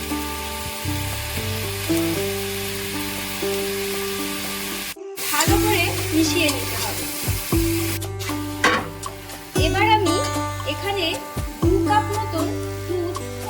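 Shukto curry simmers in a pan with salt just added, giving a steady close sizzle broken by a few bursts of stirring, all over a constant humming tonal background.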